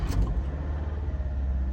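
Steady low engine rumble from a car idling or running nearby, a continuous mechanical drone with a brief higher burst at the start, no voices.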